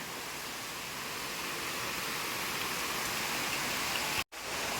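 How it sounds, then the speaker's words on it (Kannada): Steady heavy rain pours down in a dense, even hiss, briefly cutting out near the end before resuming. "ಜೋರ್ ಅಂದ್ರೆ ಜೋರ್ ಮಳೆ ಹೊಂಟವ ಈಗ ಮಳೆ"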